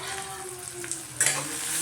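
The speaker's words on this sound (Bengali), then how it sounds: "তেল গরম হলে পেঁয়াজ কুচিগুলো দিয়ে দিচ্ছি কাঁচা লঙ্কাও।" Chopped onions and green chillies fry in hot oil in a pan for a Bengali egg curry, a steady sizzle with a brief stirring scrape and a louder burst of hiss near the end.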